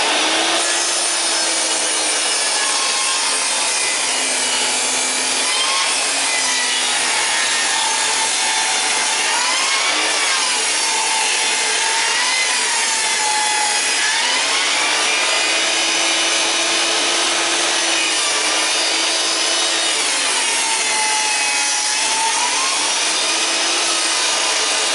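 A saw cuts steadily through a pallet wood board, trimming off its worst edge for flooring. The rasping is loud, close and continuous, with a gently rising and falling pitch as the blade works along the wood.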